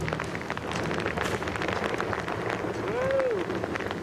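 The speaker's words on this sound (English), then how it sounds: "Sure enough, we've got rain and headwind now." Rain and gusting headwind buffet a canoe on a Scandinavian lake during a long expedition, a steady close wash of wind and rain noise with a brief whistling gust near the end.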